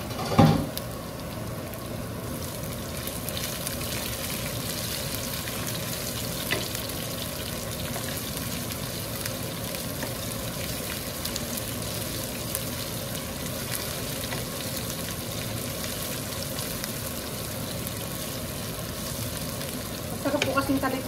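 Onions sauté in a pan for beef kare kare, giving a steady, even sizzle and crackle that lasts about twenty seconds, with brief handling knocks at the start and end.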